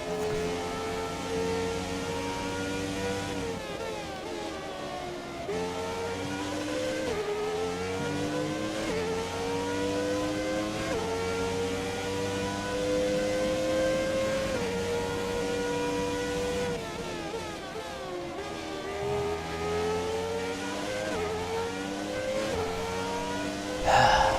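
F1 2017 race cars with engines whining and revving during an Australia race, a McLaren closing in from behind; steady high-pitched engine tones rise and fall as the cars shift gears, loud and continuous.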